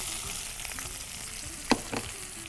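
Onions sautéing in hot oil in a pan for paneer Schezwan fried rice, a steady close sizzle with a single sharp spoon knock near the end.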